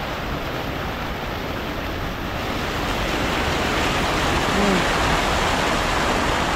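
Water rushing steadily through a built channel at a cool outdoor spot, a continuous broadband roar that stays loud and close the whole time and swells slightly midway.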